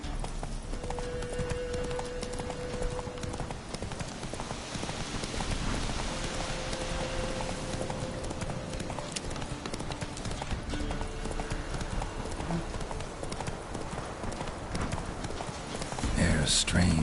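A horse gallops in the video game Witcher 3, its hooves beating a rapid, continuous clip-clop over a steady bed of ambient game sound with faint tonal music, ending in a brief louder burst.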